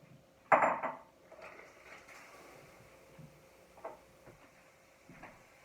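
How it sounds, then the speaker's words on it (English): Potatoes dumped into a pot of boiling water in a home kitchen: one loud clattering splash up close, followed by faint scattered knocks and pot clinks. "I'm going to go dump these in my pot of boiling water"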